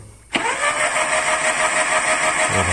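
A Maruti Gypsy engine cranks briefly and fires up with a sudden roar, then settles into a steady, even idle.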